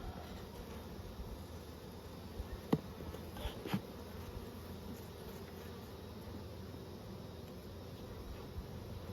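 Honey bees buzzing around an opened hive during outdoor beekeeping, a steady low insect drone filling the background with a couple of brief clicks or knocks.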